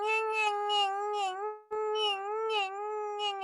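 A comedian's voice imitates a plane pushing back from the jetway as a long, wavering, whiny tone that rises and falls in steady pulses, with one short break midway before continuing.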